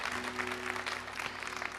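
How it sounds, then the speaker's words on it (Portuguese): A church congregation claps for Jesus during a sermon, a dense, even patter of many hands. "Então bata palmas para Jesus"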